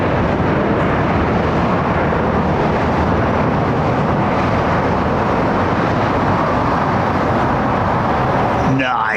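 Airliner departing London Heathrow runway 09R passes overhead as a loud, steady broadband jet roar that fills the whole clip without easing, with people talking over it.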